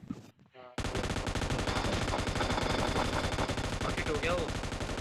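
Sustained M249 machine gun fire in a video game, a dense rapid burst starting abruptly after a brief quiet opening and continuing loud and unbroken to the end.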